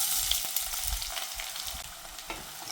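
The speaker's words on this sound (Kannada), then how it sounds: "ಎಣ್ಣೆ ಕಾಯ್ದ್ಮೇಲೆ ಈರುಳ್ಳಿ ಹಾಕ್ಕೊತಾ ಇದ್ದೀನಿ" Chopped onions fry in hot oil in a pan, sizzling loudly and close with a constant crackle, broken by a few faint scrapes of stirring. No voices.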